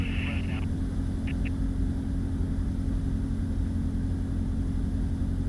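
Engine of a 1966 Mooney M20F drones steadily in the cabin on landing approach, a constant low rumble with a couple of brief high beeps early on, under the hum of the intercom.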